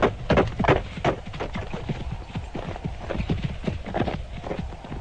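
A horse's hooves clip-clop steadily along a short causeway leading to a house, a rapid, even run of close, crisp hoofbeats that goes on without pause.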